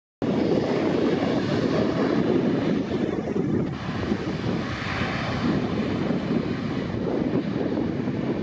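An airliner arriving from Houston George Bush airport passes at LAX, a steady, loud broadband jet roar mixed with wind buffeting the microphone, sustained throughout without a break.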